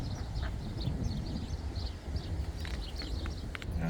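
Ducks quack repeatedly in short bursts at the Auckland Botanic Gardens, a little distant, over a low rumbling background with occasional clopping sounds.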